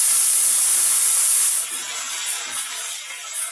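Tomatoes dropped into a hot pan let out a loud, hissing sizzle that swells at first, then eases into a softer, steadier fry.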